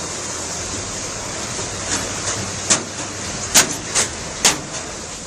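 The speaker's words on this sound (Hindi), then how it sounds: "देखिए कैसे सड़क से होकर झरना नीचे नाले में गिर रहा है।" Rainwater pours off a mountain road in Bageshwar, Uttarakhand, falling down into a drain during heavy rain. It makes a steady, even rushing hiss throughout, broken by a few brief sharp knocks.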